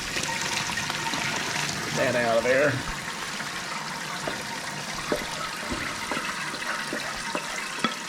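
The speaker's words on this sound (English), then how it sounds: "Let's turn this cold water up. Get cold water running in there." Cold tap water runs steadily into a metal colander holding boiled wild poke greens, a continuous close splashing hiss with a brief louder gurgle early on, while someone talks over it.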